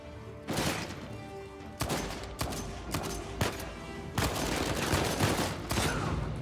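Gunfire from a sniper and other weapons in the video game Uncharted 4, a run of loud sharp shots and bursts with crashing impacts layered over game music and ambience, no talking.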